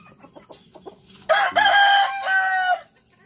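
A Leaper hatch gamecock with dirty feet crows loudly and close by in one long call, after a few soft clucks.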